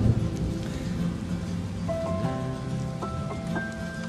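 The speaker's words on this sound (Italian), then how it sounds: "Piove, senti come piove, Madonna come piove, senti come viene giù." Heavy rain pouring down in a street where a cycle path is flooded and rubbish bins float in the water, a steady, dense wash of noise with faint tonal sounds rising briefly beneath it.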